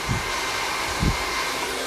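A hair dryer blow-dries curly hair with a steady, close whooshing roar, broken only by two soft low bumps.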